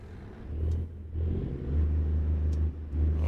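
A video game truck engine in American Truck Simulator starts, then rumbles and idles steadily low, swelling slightly in loudness before settling, with no talking.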